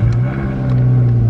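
A Lotus Exige 430 engine idles on a cold start with a deep, steady, close rumble and a few faint higher clicks, no speech.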